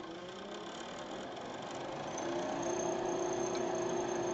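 A wood lathe turns a chess piece while a spindle gouge cuts, giving a steady whirring hum with a faint scraping texture that grows slightly louder as the cut engages.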